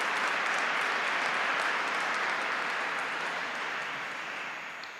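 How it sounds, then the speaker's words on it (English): A big round of audience applause at the Milano Fab City Camp gathering, a dense, even wash of clapping that holds loud and then gradually tapers off over five seconds. "A big round of applause, actually."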